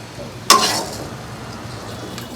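Garlic frying in a pan, with a sudden loud sizzle as it drops into the hot oil and is stirred, then settling into a steady, softer crackle.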